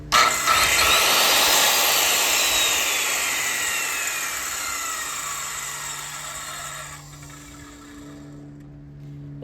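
A circular saw fitted with a Hercules carbide metal-cutting blade cuts through steel, a loud, close, high whining screech from the start that slowly fades as the blade spins down, with no voices.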